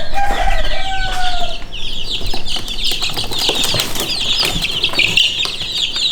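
Bantam chicks and chickens, Yokohama bantam crosses and a mottled Wyandotte bantam, cluck and cheep close by, with bursts of flapping wings and a brief crow-like call near the start.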